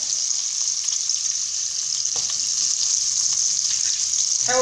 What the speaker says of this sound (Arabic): ونخليها تتقلى حتى تجمر